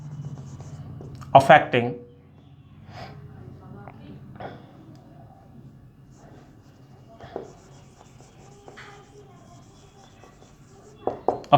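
Chalk or marker scratches across a board during a chemistry lesson, sparse strokes and taps heard under a teacher's speaking voice.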